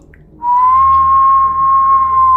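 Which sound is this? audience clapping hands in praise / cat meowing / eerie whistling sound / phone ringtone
eerie whistling sound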